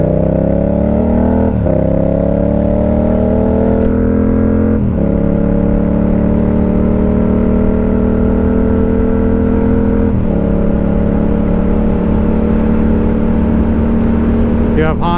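A Yamaha MT-07 motorcycle engine drones loudly while riding, rising through gears with several shift dips and steady revving, close and continuous under wind rush.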